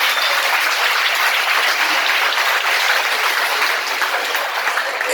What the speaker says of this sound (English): make some noise for our best man, Zach White, tonight